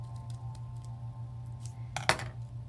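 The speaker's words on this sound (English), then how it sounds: "I took my scissors and I cut a triangle into my folds" Scissors snipping through folded paper to cut a triangle, a few faint light snips followed by one sharp, louder cut near the end over a steady low hum.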